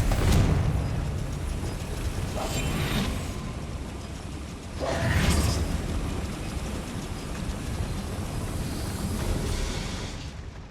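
Confringo fire-spell blasts in the game Hogwarts Legacy: a few sharp explosive bursts, one at the start and another near the middle, each rolling into a loud, rumbling roar that stays dense throughout.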